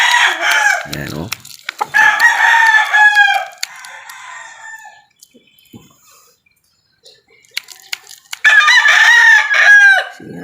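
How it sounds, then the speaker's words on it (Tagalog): A rooster crows loudly and close by, with two long harmonic calls separated by a quiet stretch of softer clucks and scattered bird sounds. "Yun, isang tilaok."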